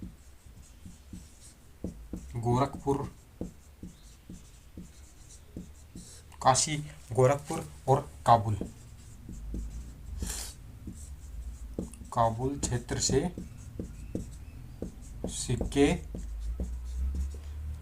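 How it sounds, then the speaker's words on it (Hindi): Chalk scratches and taps across a board as a teacher writes place names, in short irregular strokes under continuous talk. "तो एक जानकारी अपन इधर लिख लेते हैं"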